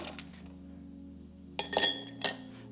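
Ice going into a glass beaker for a stirred cocktail: after a quiet stretch come a few bright clinks and rattles of cubes against glass, close and moderately loud.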